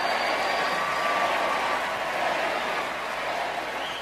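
A packed pop culture house cheers and applauds after a beloved Catholic hymn is sung, a steady, loud wash of clapping and crowd noise holding for a few seconds before easing slightly.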